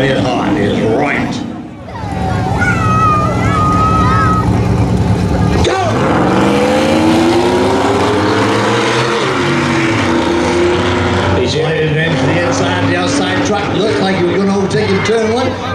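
Pickup trucks racing at a spectator drag event at Beech Ridge, with loud engine roar and revving passing close throughout, under continuous excited commentary from an announcer.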